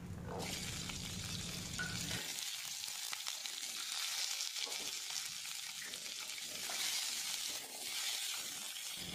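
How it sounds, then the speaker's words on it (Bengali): Broken dry red chillies dropped into hot oil, setting off a loud, steady crackling sizzle up close that continues without pause, with no speech. "এই শুকনো লঙ্কাগুলো টুকরো করে করে এই তেলের মধ্যে আমি দিয়ে দিলাম"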